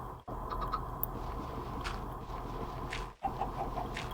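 Chickens clucking in the rain, soft repeated clucks over a steady wash of rainfall, fairly close but faint, with two brief dropouts and no talking.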